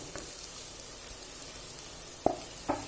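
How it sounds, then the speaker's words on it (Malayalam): Masala of ground coriander, chili and turmeric powder fries for a duck roast with a faint, steady low sizzle, broken by two sharp stirring clinks near the end. "നന്നായിട്ടൊന്ന് മസാല മൂത്ത് വരുന്നവരേക്ക് നമുക്കൊന്ന് ഇളക്കി കൊടുക്കാം"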